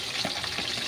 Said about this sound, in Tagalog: naisalang ko na sa kawali ang prito ko